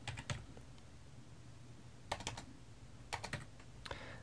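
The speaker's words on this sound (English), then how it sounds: "So I'm just going to type in a file name here" A file name typed on a computer keyboard, with quick clusters of light key clicks separated by short pauses, close and quiet with no talking.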